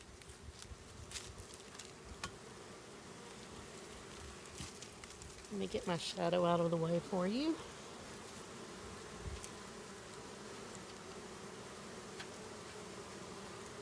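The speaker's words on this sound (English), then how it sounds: "I'm going to get as close as I can to these bees." Honeybees buzzing close around wooden beehives outdoors, a brief loud swell of droning wingbeats rising and fading in the middle, with a faint steady hum before and after and someone speaking briefly.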